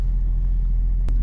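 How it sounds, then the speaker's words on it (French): A BMW 530d E39 Touring with a six-cylinder diesel engine idles steadily, a low continuous rumble close by with a brief click near the end. "c'est un bruit de 6 cylindres en fait"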